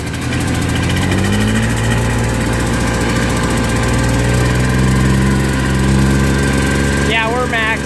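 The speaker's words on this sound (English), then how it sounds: "It's probably not gonna rev very high because it's cold yet, it hasn't warmed up." A cold vehicle engine that has not warmed up idles loudly and steadily nearby with a deep droning hum and shifting tones as it is revved a little. A brief voice-like warble cuts in near the end.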